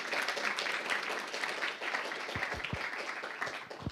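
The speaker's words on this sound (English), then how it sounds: "And thank you for the round of applause." A conference audience gives a round of applause at a session on the Polish elections, steady distant clapping with a few sharper nearby thumps toward the end.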